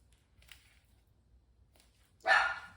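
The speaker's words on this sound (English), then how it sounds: "My guard dog Bogey, all 15 pounds of him, is barking. Someone must be at the front door." A single sharp bark from a small 15-pound dog rings out near the end after a few faint, distant yips in an otherwise quiet room.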